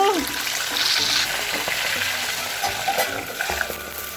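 A second batch of green peas frying in hot oil for a crunchy snack gives a steady, close crackling sizzle throughout, with faint stirring scrapes.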